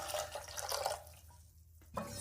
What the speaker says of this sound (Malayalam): ശർക്കരപ്പാനി ഒഴിക്കുകയാണ്.